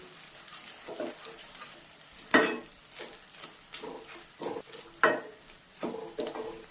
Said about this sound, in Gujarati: આ જગ્યાએ આપણે ડ્રાયફ્રૂટ પણ નાખી શકીએ, ઘીમાં શેકાઈ જાય.